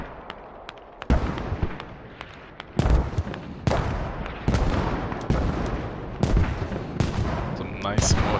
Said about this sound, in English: Some nice mortars here